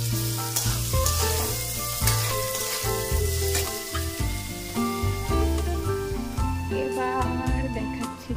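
Food sizzles in a pan on a gas stove while a utensil stirs it, producing repeated scraping and clattering strokes over a loud, steady frying hiss, close up and with no talk.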